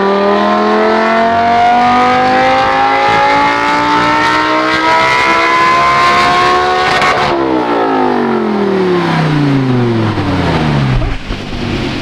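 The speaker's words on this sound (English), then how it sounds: "I'm very curious to see how this car will sound wide open throttle outside of it." A Lamborghini pulls hard at wide open throttle in fourth gear, its rising engine note climbing steadily and loudly for about seven seconds before a sudden drop as the throttle lifts and revs fall away.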